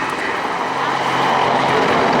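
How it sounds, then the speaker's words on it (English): Army Air Corps Apache attack helicopter flying a display at Cosford airshow, a loud steady rotor and turbine roar filling the whole clip with broad rumbling wash, close and continuous, with an announcer's voice faintly under it. "there you have Prince Harry demonstrating in front of you in the amazing Apache helicopter from the Army Air Corps."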